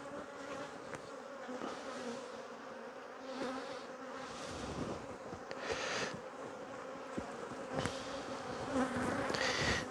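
Loud, steady buzzing of many defensive honeybees swarming around an open hive, close and continuous, with brief rises and dips as bees fly past.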